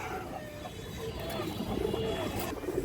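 High flyer pigeons cooing in soft, low, rolling calls, close by and fairly quiet, with faint background noise and chatter.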